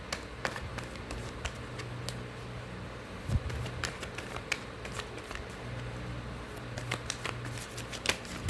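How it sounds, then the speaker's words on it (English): Tarot cards are shuffled by hand in soft, repeated riffles and taps, close and fairly quiet, with an irregular rhythm and a louder knock partway through. "let me pull out some tarot cards for you"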